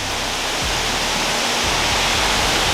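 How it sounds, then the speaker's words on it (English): Lisbon Falls, a waterfall in Mpumalanga, South Africa, roars as a loud, dense, unbroken rush of water with no voices over it. "welcome to the Lisbon Falls"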